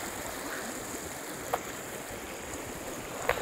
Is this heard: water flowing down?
yes